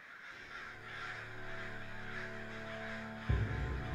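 A small bird in the video game Clanfolk gives a drawn-out, harsh, caw-like call that holds steady for a few seconds before a sudden dull thump cuts in near the end; the sound is quiet overall.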